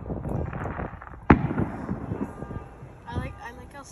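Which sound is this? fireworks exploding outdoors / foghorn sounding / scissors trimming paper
fireworks exploding outdoors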